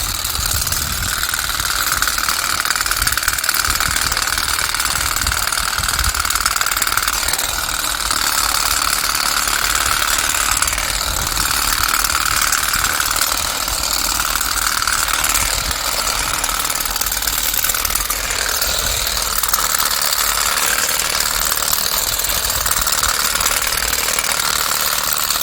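A Parkside 4V cordless combi-shear PGSA 4 C4 runs continuously while cutting, a loud, steady whirring buzz with a rough, gritty texture that holds unbroken throughout.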